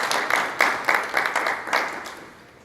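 A conference audience at a National Urban League advocacy event claps in uneven, overlapping bursts of moderate loudness, tapering off toward the end with no talking.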